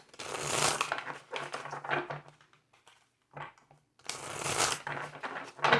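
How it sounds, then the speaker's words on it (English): A deck of tarot cards is shuffled by hand in several crisp riffling bursts, close and clear, separated by short pauses and a brief quiet gap before a final shuffle. "And 2 more shuffles."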